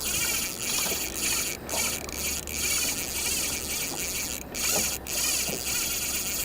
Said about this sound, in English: he's burning the reel